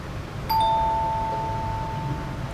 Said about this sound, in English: may doorbell yung condo